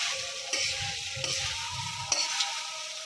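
Colourful flattened-rice pulao with peanuts being tossed and stirred in a frying pan, with a steady sizzle broken by three distinct scraping knocks of the utensil.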